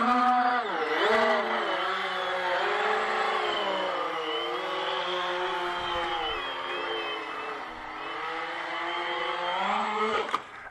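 Small foamboard VTOL tail-sitter with electric motors run at full throttle, a steady high-pitched whine with shifting pitch held for about ten seconds, fairly loud and close, with no talk over it.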